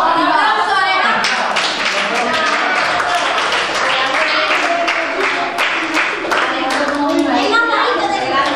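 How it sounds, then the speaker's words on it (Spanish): Applause and clapping fill a summer school closing and diploma ceremony as the audience cheers young Alejandro, the smallest child there, with steady dense claps throughout and children's voices mixed in. "¡Un aplauso, Alejandro!"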